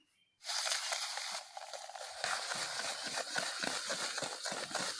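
Eggs and sugar are beaten by hand in a bowl for cake batter. After a brief silence, close, quick rhythmic whisking strokes start and repeat steadily to the end.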